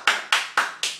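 A baby claps small hands four times in a steady rhythm, each clap crisp and close, with short gaps between them.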